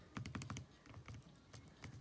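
Buttons pressed on a graphing calculator, a quick burst of close, faint clicking taps followed by scattered single presses.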